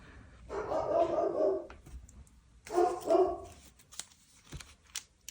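A dog barks in two short bursts of several barks each, fairly close and clear, followed by a few faint scattered clicks and noises.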